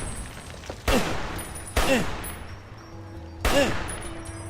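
Gunfire in the video game Fallout, three heavy blasts spaced about a second apart, each with a ringing tail over a steady low in-game background hum.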